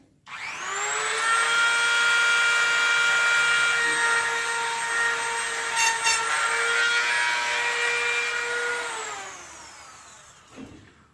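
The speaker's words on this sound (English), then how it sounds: "Dremel me a relatively deep hole" A Dremel rotary tool drills a deep hole in a taxidermy base for a bobcat mount: a loud, steady, high-pitched whine spins up, runs for about nine seconds, then winds down, with no talking.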